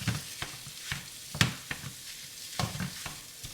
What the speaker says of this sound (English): So right now we're finna get ready to break this sausage up